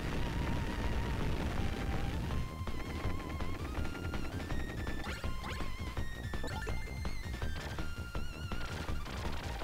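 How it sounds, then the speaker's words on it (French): Dense, loud crashing and rapid gunfire-like blasts fill a retro Mega Drive game's super bomb explosion, layered over continuous chiptune music with rising melodic tones and no pauses. "Ah voilà, la super bombe."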